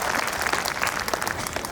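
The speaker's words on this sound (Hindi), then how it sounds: "मैं चाहता हूं चौधरी चरण सिंह के लिए आपके एक बार आगे से पीछे तक दोनों हाथ लगाते हुए तालियां हो जाएं।" A crowd at a public gathering bursts into lively, close applause honoring a political figure, with dense overlapping claps and a few sharper individual hits throughout.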